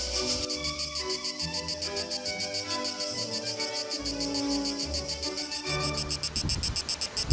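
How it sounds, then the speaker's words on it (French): Cicadas on a sunny summer day give a loud, rapid pulsing buzz that carries steadily throughout, over low background tones. "la cigale se mettait à chanter avec ses petites camarades"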